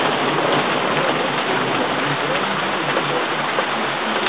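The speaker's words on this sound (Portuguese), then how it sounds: "Tá chovendo, graças a Deus, porque tava muito frio" Rain falling steadily on an apartment balcony in Switzerland, a dense continuous hiss of drops close by, alone without talk.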